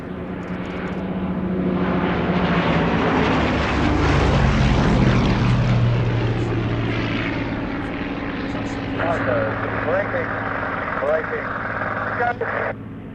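A Gloster Gladiator biplane flies past at an evening air display, its propeller engine droning loud and steady as it swells and fades, with someone talking throughout.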